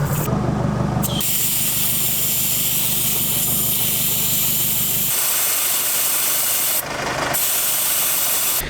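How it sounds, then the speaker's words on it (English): Air hisses loudly and continuously from a 4x4 tire being deflated, a steady broadband rush with brief breaks near the start and toward the end, close up with no voices. "About to deflate the tires a little bit"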